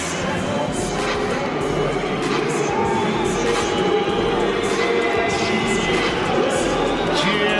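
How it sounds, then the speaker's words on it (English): Boxing arena crowd at a Joe Calzaghe vs Jeff Lacy fight, a loud continuous roar of cheering and chatter filling the hall, with a commentator talking over it. "Cheers from the crowd."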